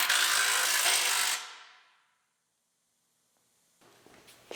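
A power ratchet drives bumper reinforcement bolts in a loud, steady whir that stops abruptly and fades into silence, followed by faint mechanical clicks and rattles.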